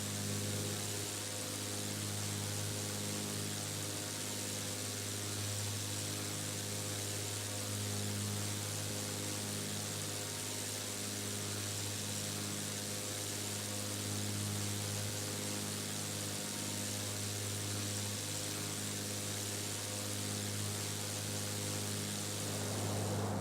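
A propeller airplane's engine drones steadily in the X-Plane 11 flight simulator, a constant close hum with no variation as the aircraft cruises near top of descent over Washington's Rattlesnake Hills.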